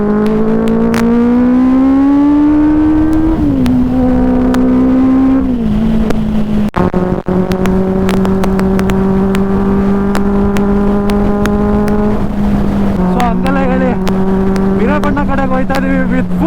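Motorcycles run at full throttle on a ride toward Coorg. The engines drone loud and close without a break, and their pitch climbs and drops with each gear change. Wind roar runs underneath.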